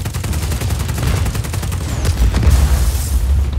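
Rapid bursts of video game gunfire from Just Cause 4, loud and close, with repeated shots in a steady rhythm and heavier booming blasts near the end.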